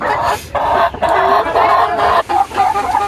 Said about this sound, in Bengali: মুরগিগুলো অনেক সুন্দর আছে